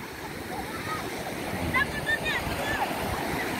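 Afternoon ambience at Pantai Padang beach, a steady wash of surf and wind with faint distant children's shouts rising briefly, all soft and continuous.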